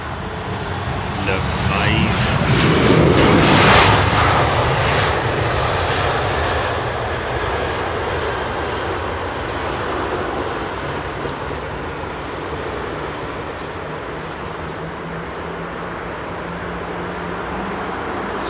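An Air China Airbus A330 arrives at London Heathrow Airport, a loud sustained jet engine roar swelling and then easing into a long rumbling drone, with someone talking over it.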